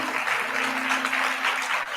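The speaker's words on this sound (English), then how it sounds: "Give another round of applause." An audience at a remembrance event applauds in a sustained, even wash of clapping from many hands, moderately loud and steady throughout, with a faint hum beneath and no speech.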